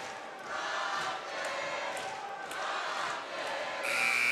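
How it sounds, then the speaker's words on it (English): Brockton basketball fans cheering in a gym during a playoff game at Franklin, a steady roar of crowd noise rising and falling in waves, with a brief buzzer-like tone near the end. "You can hear the Brockton fans cheering."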